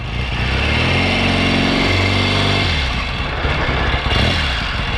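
A 1963 Royal Enfield Interceptor motorcycle engine running while ridden, a loud steady throb that rises in pitch then drops as it shifts, with wind rush and no talk.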